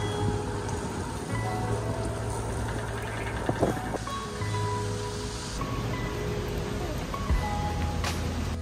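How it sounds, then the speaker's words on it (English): Rain falling steadily during a dog walk on a city street, a soft continuous patter with a low rumble of passing traffic and faint distant noises underneath. "Rain's getting a bit heavier as we're going on."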